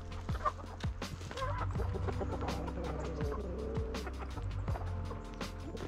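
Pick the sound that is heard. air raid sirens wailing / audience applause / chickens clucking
chickens clucking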